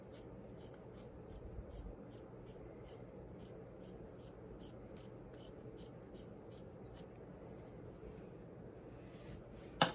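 Scissors cut fabric around quilt appliqué on an heirloom blanket, a steady run of quick, faint, evenly spaced snips over a low background hum.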